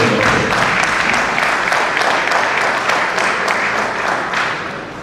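A crowd at a bar association law week gathering breaks into a round of applause, dense steady clapping that carries on for several seconds and eases off slightly toward the end.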